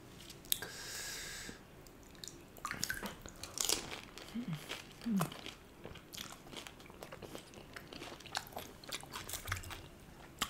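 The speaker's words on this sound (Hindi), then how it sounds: "अब खाते हैं भाई सभी लड़कियों की जान माने जाने वाले इन गोलगप्पों को" Golgappa (pani puri) being eaten gives faint, close, scattered crunches and soft wet chewing over several seconds of quiet.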